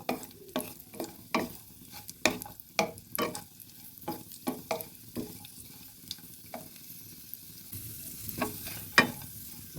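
Cashews and raisins fry in ghee in a pan while being stirred, giving a soft steady sizzle broken by repeated sharp scrapes and clinks of the spoon, close and fairly quiet with no voices.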